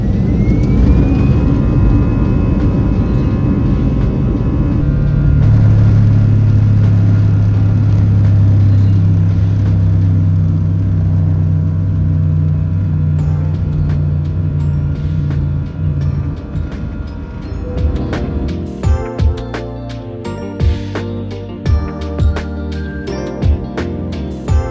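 Airliner jet engines roar steadily at full takeoff power on departure from Islamabad toward the Himalayas, a loud sustained drone with a rising whine, later joined by rattling cabin clatter.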